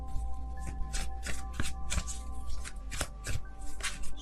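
Tarot cards are riffled and shuffled by hand in quick, repeated papery bursts, close and crisp, with no talking over them.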